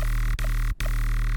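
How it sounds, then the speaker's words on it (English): Synth patch with the spread function set to 100, a sustained buzzing tone whose high end flutters against a deep sub bass, with two brief dropouts. "now you really hear that the high end flutters with the sub bass"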